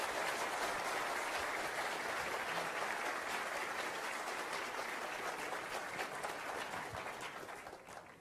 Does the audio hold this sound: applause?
yes